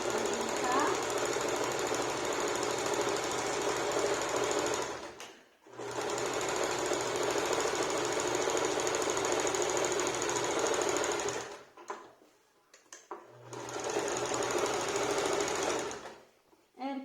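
An industrial straight-stitch sewing machine runs in three long, loud, continuous bursts of rapid mechanical needle chatter, separated by short pauses as it stops and restarts.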